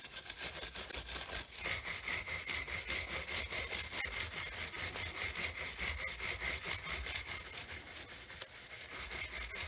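An old electric toothbrush scrubs wax out of the crevices of a leaded glass hexagon solar lantern, giving a steady, close, continuous buzzing rub with a faint motor whine throughout.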